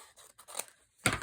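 Scissors snip through an old magazine page at close range, a few quiet crisp cuts ending in one sharper final snip.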